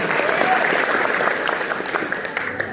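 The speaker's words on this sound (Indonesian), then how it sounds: "Boleh tepuk tangan sekali lagi untuk jawaban kita." An audience at a school extracurricular inauguration talk show claps in sustained, dense applause, steady and fairly loud for the whole stretch, fading slightly toward the end.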